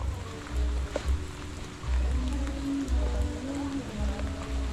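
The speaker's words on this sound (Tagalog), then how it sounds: "Matindi na yung ulan na to ha." Heavy rain pours steadily onto the roof of a hut, a dense, continuous hiss and patter with low drumming, loud and close, with no talk.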